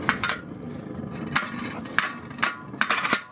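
Wood pellets drop into a UK rocket stove. Sharp metallic clatters and knocks come in small clusters over a low rumble, close and moderately loud.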